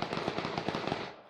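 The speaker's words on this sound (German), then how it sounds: "Unten kommen Schüsse." Rapid gunfire bursts in the battle royale game PUBG, a fast rattling string of shots, loud and close, fading out at the end.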